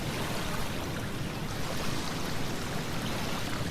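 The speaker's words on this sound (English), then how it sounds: "Look at the waves coming toward you. Take in the sound." Ocean waves coming ashore, a continuous broad wash of surf that stays steady and fairly soft throughout, with no voices over it.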